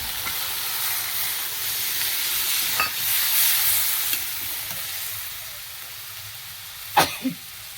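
Mustard paste thinned with water goes into a hot, sizzling pan and is stirred: a steady, close frying hiss runs throughout, with a couple of sharper spatters and utensil scrapes near the end.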